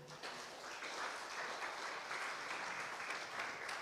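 A church congregation applauds the Lord after a sermon, a dense, even roar of clapping that starts abruptly and continues steadily at full strength.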